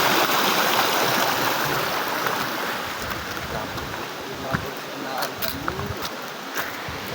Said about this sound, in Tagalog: Sa pangalawang falls. Medyo malalim dito.